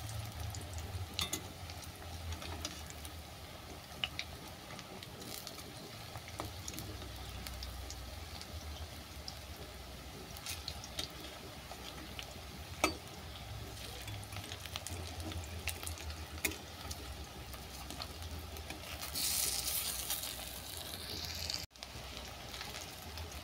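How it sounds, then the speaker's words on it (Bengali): Water lily pakora being deep-fried in hot oil with one side done and turned over: a faint, continuous crackling sizzle with scattered pops, steady over the whole stretch with no talking. "এক পিঠ ভাজা হয়ে গেছে, অপর পিঠটাকে উল্টে দিচ্ছি।"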